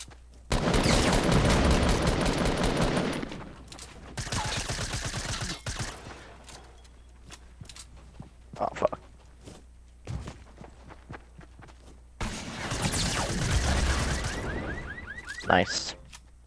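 Rapid bursts of video game gunfire fire at the player in several loud volleys separated by quieter gaps with scattered single shots and footsteps.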